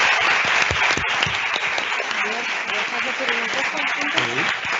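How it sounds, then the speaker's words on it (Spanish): An audience applauds participants at a talk on workplace wellness plans, a dense, lively burst of clapping with voices talking over it in the second half. "voy a pedir un aplauso aquí para nuestros participantes"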